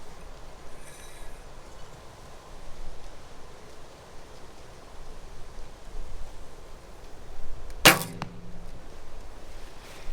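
A single arrow shot from a 27-inch Hoyt Exceed barebow riser with extra-long Velos limbs at 18 yards gives one sharp, loud release snap followed by a brief rattle, standing alone against quiet outdoor background.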